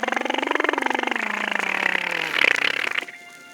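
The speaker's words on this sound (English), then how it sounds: "Listen for the cry of its propeller, which sounds like this." Droning propeller buzz with a rapid pulsing flutter that sags slightly in pitch, swells briefly near the end, then cuts off abruptly.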